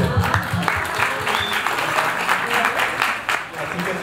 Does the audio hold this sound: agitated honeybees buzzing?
no